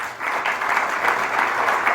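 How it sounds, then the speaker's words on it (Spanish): Brief burst of audience applause, a steady wash of many hands clapping at moderate volume with no voices over it. "un aplauso para ellos."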